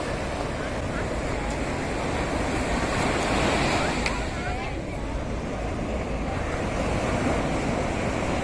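Waves break and wash along Promenade Beach in Pondicherry, a continuous surf roar with wind buffeting the microphone and a swell in the middle, steady and moderately loud.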